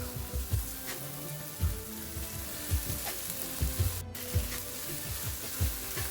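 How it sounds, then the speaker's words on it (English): Crumbled chorizo sizzles and crackles steadily in a hot pan over medium-high heat, with stirring scrapes and small pops recurring throughout, close and fairly loud. "And now I'm just gonna crumble the chorizo and I'm going to let it cook."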